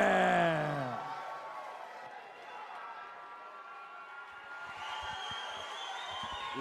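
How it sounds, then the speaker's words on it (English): Boxing arena crowd at a WBC Australian middleweight title fight cheers and whoops as the champion is introduced, a loud roar that settles into a steady, distant crowd murmur, with an announcer's voice at the start. "Listen to that crowd."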